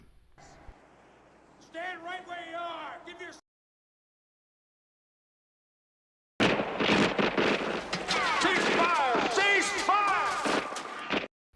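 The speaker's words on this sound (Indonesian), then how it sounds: "Will dan pasukannya malah menembaki si John" Gunfire from a movie scene, with bursts of shots crackling under loud narration, first in a short stretch and then in a longer, denser spell after a few seconds of silence.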